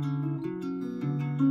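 Acoustic guitar playing a steady fingerpicked pattern from a song, notes sounding one after another without pauses, close and clear, with no voices.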